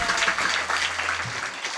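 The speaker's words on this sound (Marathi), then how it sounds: "परत एकदा टाळी वाजव जोरात" An audience claps loudly and steadily at a Marathi kirtan in Balapur, Sambhajinagar, a dense, continuous wash of hand claps that holds for the whole moment.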